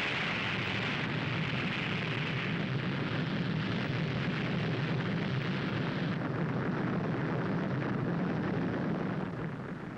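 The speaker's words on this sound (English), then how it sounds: "As the missile hurtles through space," Missile launch after a countdown, a steady broad rumbling roar that holds at even strength for about ten seconds, moderately loud and without any voices.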